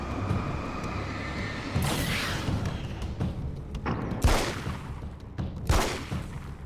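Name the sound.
gunshots in video game Alan Wake's American Nightmare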